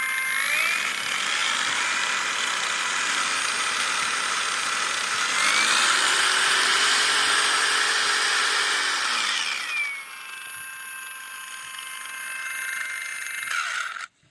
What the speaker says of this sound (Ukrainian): подвійним кліком на кнопку ввімкнення, ви вмикаєте саму болгарку.